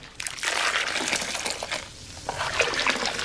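Cold water sloshing and trickling steadily through the condenser of a makeshift pot still in Mongolia, a continuous close watery rush with small surges and no voices.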